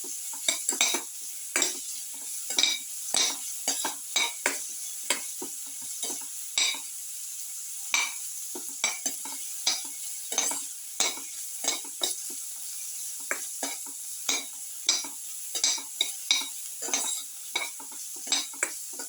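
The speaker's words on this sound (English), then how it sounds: "You can saute." Garlic, potato and tomato are sautéed in a pan for a casserole, with a gentle sizzle under frequent scraping stirs and spoon clinks against the pan, irregular and close, with no talking.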